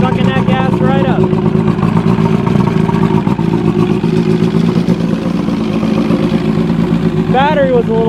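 An Evinrude Starflight 100hp outboard motor runs loud and close with a steady rough drone throughout, and voices come through briefly near the start and the end.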